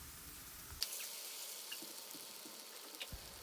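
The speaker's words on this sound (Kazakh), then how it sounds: "сковородкамызға майымызды құйып, қыздырып, үстінен картоптарымызды тастап, қатты отта қуыратын боламыз" Potatoes and onion frying in hot oil in a skillet over high heat, a steady close sizzle running throughout with a couple of sharper pops and crackles, no voices.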